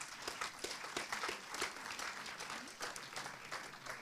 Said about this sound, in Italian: So a big round of applause to the team